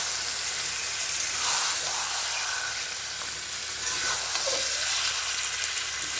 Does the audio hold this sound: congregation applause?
no